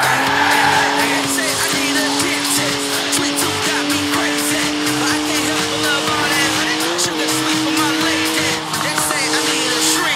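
A rear-wheel-drive BMW 1M with a 335-horsepower twin-turbo 3-litre straight six drifts in Forza Horizon 4, its engine droning loudly and steadily as the tires squeal continuously through long slides.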